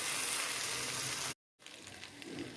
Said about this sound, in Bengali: বাস এই তো ভাজা করে নিলাম